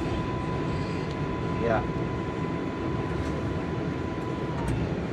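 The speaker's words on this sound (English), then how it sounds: "a Manhattan-bound 7th skip stop train" A New York City 7 subway skip-stop train rides toward Manhattan, its steady loud rumble and hiss filling the car with a faint sustained tone, while a voice speaks briefly over it.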